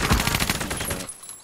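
Rapid automatic gunfire from a video game sounds in a fast burst of close, loud shots lasting about a second before cutting off.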